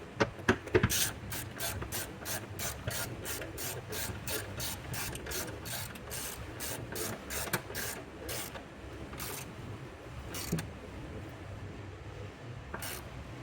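A 13 mm socket ratchet tightening the battery hold-down clamp on a 2011-2017 BMW X3 F25, a close, quiet run of rapid clicking pawl strokes in bursts, with brief pauses between.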